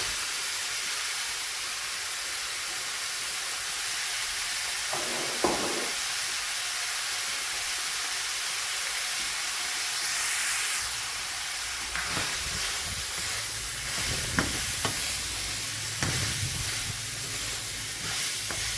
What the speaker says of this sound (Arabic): هايديك هنايا كي راهو تشوى اللحم